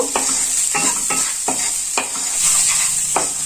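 Spiced masala of chilli powder, garam masala and salt being stirred and fried in a pan, a steady close sizzle broken by repeated scraping strokes of the spoon, with no talking.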